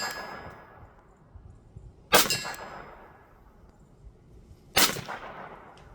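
Two sharp metallic clangs spaced a few seconds apart, each a .22 LR round from a Sig P322 pistol striking a steel target at 25 yards, ringing briefly then fading over quiet outdoor background.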